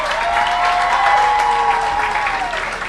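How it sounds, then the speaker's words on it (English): A large stadium crowd stands applauding a state champion high school girls' tennis team and coach, sustained dense clapping with faint voices mixed in, steady and loud across the whole stretch. "This big crowd at Metz Cherry Stadium on their feet, applauding Coach Hilburn and the Lady Indians tennis te"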